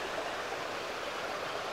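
Flowing stream water rushes steadily outdoors, a broad even hiss of moving water with no breaks, moderately close and unaccompanied by voices.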